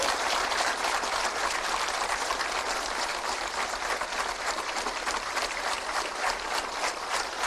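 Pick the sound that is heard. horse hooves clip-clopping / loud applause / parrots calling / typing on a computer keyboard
loud applause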